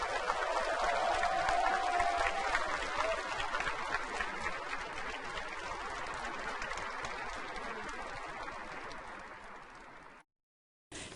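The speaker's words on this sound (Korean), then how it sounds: "국민 여러분, 의연하게 잘 대처하고 있는 문재인 대통령께 격려의 힘찬 박수를 부탁드립니다" Sustained applause from a large crowd encouraging South Korean President Moon Jae-in, a dense steady clatter of clapping that thins slightly over about ten seconds before cutting off.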